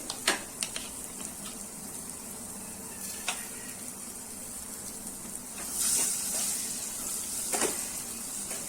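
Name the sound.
beaten eggs frying in spices for anda bhurji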